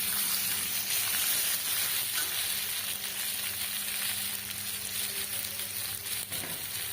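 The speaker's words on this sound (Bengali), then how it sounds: "কচুটাকে দিয়ে দিলাম তেলের ওপরে," Taro pieces frying in oil in a pan over a wood fire, a dense, even, continuous sizzle and hiss, close and steady, with no talking.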